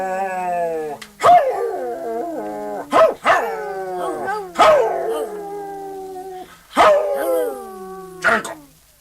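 A dog barks and breaks into long, wavering howls, in several loud, drawn-out bursts with short yips between them, close by and with no talk over it.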